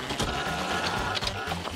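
A mini printer runs steadily at close range, giving a continuous whirring, buzzing mechanical hum with small rhythmic ticks as the paper feeds through.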